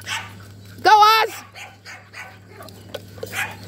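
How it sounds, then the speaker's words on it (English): During an agility-style play run, a dog lets out one loud, sharp bark close to the microphone. Lighter yips and excited voices surround the bark. "no time for barking."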